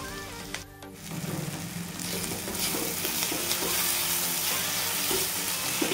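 Paneer bhurji masala frying in a pan gives a loud, steady, close sizzle, with the spatula scraping and stirring through it and no voices.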